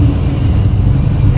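A car called the Phoenix, driving under its own power for the first time with a dusty cabin, gives a steady low engine rumble from inside, close and even throughout with no other sound on top.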